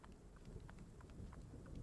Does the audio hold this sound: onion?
no